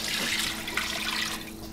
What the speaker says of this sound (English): In with our vinegar and our water.